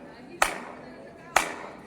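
Two sharp hand claps inside a stone palace hall at Agra Fort, about a second apart, each ringing out with a short echoing tail.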